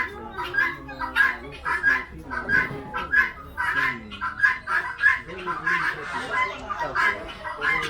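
Chickens at an animal farm cluck in quick, repeated bursts. The calls are loud and close, with a few overlapping voices keeping up a busy, uneven rhythm throughout.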